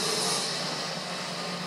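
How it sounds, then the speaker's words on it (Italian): A train moving downhill in Metro 2033 Redux gives a loud, close, broadband rumble with a high metallic hiss and squeal of wheels on rails, steady throughout the short stretch. "E mo il treno scende"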